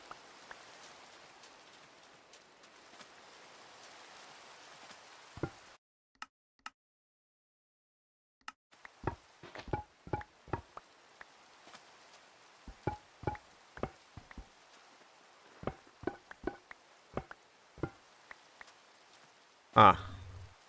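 Steady rain hisses loudly in Minecraft for about five seconds and then cuts off, leaving a pause followed by scattered sharp taps and clicks and a final loud burst.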